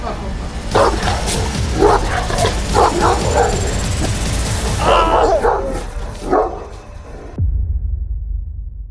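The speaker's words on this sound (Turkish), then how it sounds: "Bizim burada kimsenin böyle 3-5 metre daha yaklaşamadığı bir köpek var" An aggressive shepherd dog on a chain barks repeatedly in loud, close bursts, with people talking between and over the barks.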